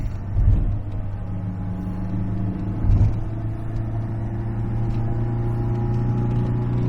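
A 1985 Subaru Brat GL engine pulling uphill in third gear, a steady low droning rumble heard from inside the cab with a couple of brief bumps, no talk.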